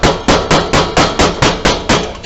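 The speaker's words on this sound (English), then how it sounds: "now we'll take a screwdriver. You can use a chisel or a punch, but you want to just lightly tap this" Screwdriver lightly tapped with a hammer into an electric meter base during installation: nine sharp metallic taps in a steady, even rhythm, close and fairly loud, with no voices.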